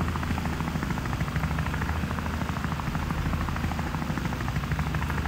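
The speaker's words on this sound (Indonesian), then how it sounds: "Aku pakai helikopter aja ya" A helicopter in the video game Wobbly Life whirs on without letting up, a dense rotor chop filling the whole stretch at an even, loud level.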